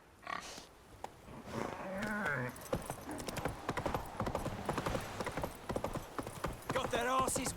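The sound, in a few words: horse hooves clip-clopping as rider spurs it on, from video game The Witcher 3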